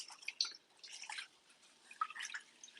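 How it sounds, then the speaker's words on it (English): Small splashes and drips as something is rinsed while cooking vegan pasta bolognese, soft wet patters in irregular clusters, close and fairly quiet with no voice over them. "Just going to"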